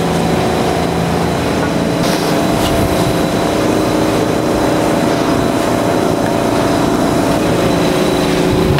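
Sheet metal fender rolled back and forth on an English wheel to smooth it, a loud continuous mechanical drone and rumble with steady hum and no pauses, no speech.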